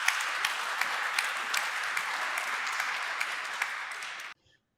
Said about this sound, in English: she got a big applause for that statement about love, Bill.